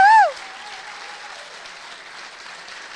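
Audience applause for speakers at a Labour for Independence meeting, following a brief loud whoop at the start, then steady moderate clapping continuing underneath.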